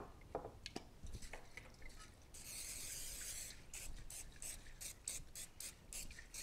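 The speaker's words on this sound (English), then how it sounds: "we're going to take an 8x8 baking dish and spray it with Pam" A short hissing burst of Pam nonstick cooking spray onto an 8x8 baking dish lasting about a second, followed by a few quick, light spritzes, quiet and close.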